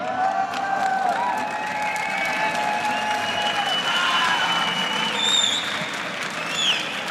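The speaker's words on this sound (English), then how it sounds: "an applause from the crowd" A crowd at a League of Legends esports playoff match applauds steadily throughout, with scattered cheers and a few whistles rising above the clapping.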